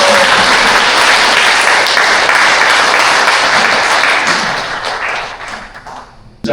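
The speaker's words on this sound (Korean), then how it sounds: "박수." Hearty audience applause at a Won Buddhist volunteer group's founding ceremony, loud and sustained, then thinning out and tapering off near the end.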